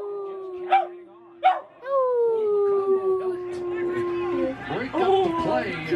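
A dog gives a few sharp yips, then a long sliding howl that continues with wavering notes, close and clear, overlapped by a voice toward the end.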